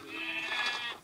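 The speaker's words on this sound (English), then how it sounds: "Slaughter some sheep." A single short sheep bleat from the video game Minecraft, clear and close, heard alone.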